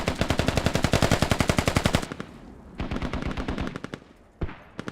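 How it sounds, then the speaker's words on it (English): Video game gunfire in a military battle scenario, a loud rapid machine-gun burst for two seconds followed by further automatic bursts and a sharp single blast, with no talking. "deadly after your mortars coming in"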